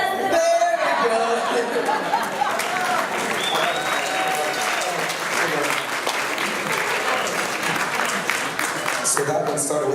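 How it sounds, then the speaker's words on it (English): A wedding reception audience in Los Angeles claps loudly after a toast, a sustained, close round of applause lasting about ten seconds with chatter and a few laughs mixed in. "Let's keep it clapping."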